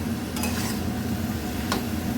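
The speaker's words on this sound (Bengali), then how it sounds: "আবার একটু নাড়াচাড়া করে ভেজে রাখা মাছগুলো দিয়ে দিলাম" Fried shrimp and pumpkin green stems are stirred together in a sizzling pan, a steady close hiss broken by two soft scraping strokes of the spoon.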